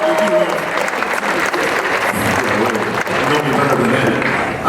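Audience at a bodybuilding seminar with past champions applauds loudly and continuously, a dense roar of clapping with cheering voices mixed in.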